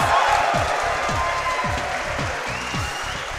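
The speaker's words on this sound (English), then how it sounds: "Let's get a round of applause, not only for the tag crew, but for Tetris." Steady applause from a speedrunning event crowd after a Tetris: The Grand Master race, continuous and fairly loud, with scattered cheers and some murmuring voices mixed in.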